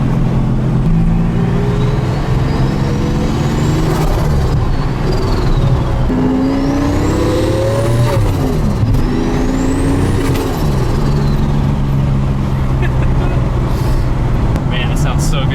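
Twin-turbo V12 engine in a Toyota Supra roars loudly from the cabin during a ride-along, rising and falling through several gear pulls with turbo whistle over a steady drone.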